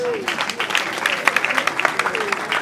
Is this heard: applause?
yes